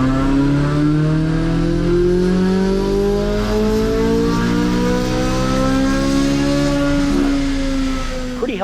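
A Chevrolet C8 Z06 Corvette pulls hard on a dyno, its engine note climbing steadily in one long, loud, continuous wail that holds high before easing off at the end.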